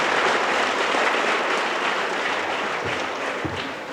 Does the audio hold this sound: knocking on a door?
no